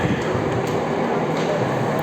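A metro train rushing past close by, a continuous loud rumbling roar with faint rhythmic rail clatter, no talking.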